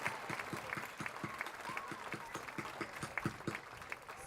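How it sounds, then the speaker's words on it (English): An audience applauds honor students at a high school graduation ceremony, with steady distant clapping from a crowd, faint and diffuse throughout. "Let's give a round of applause to our honor students and congratulations."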